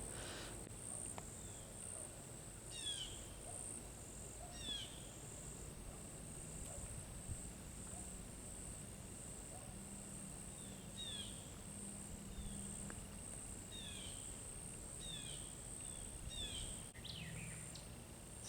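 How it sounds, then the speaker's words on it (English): Woodland ambience of crickets and insects with a steady high buzzing drone, punctuated by short repeated bird chirps and calls at a moderate distance, calm and without talk. "I love listening to the birds communicate,"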